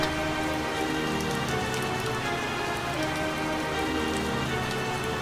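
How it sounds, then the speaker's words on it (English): Steady, heavy rain pours down in a dense, continuous hiss with no voices, loud and close throughout. "Rain pelted down onto the island of Sodor"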